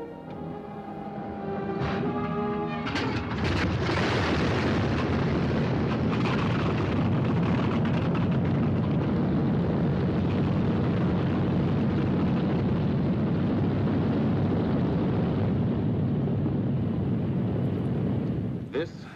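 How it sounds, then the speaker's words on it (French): Droning of bomber aircraft flying over the English countryside during wartime, a steady broad roar that swells in after a few seconds and holds loud and continuous, with a voice speaking over it. "on entend juste le vrombrissement des bombardiers dans cette campagne anglaise autrefois si paisible"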